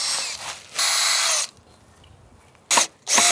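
A power drill drives screws into a wooden vegetable bed, tightened hard, in close bursts: two long whirring runs, a short pause, then two more short bursts near the end.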